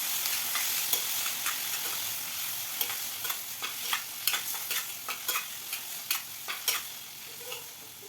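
Finely chopped tomato sizzles and fries in a pan for chutney, with steady spatula scrapes and stirring knocks repeating irregularly over a continuous close hiss.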